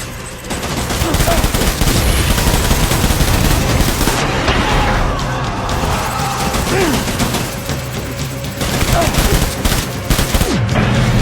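Heavy gunfire in the video game Death Stranding, loud continuous volleys of rapid shots and bursts with booms, dense and unbroken throughout, with shouting voices mixed in.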